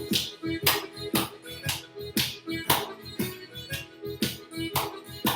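Rhythmic Irish dance foot taps and hand claps in a steady, quick pattern, loud and close, with repeated percussive strikes throughout and a few counted voices under them.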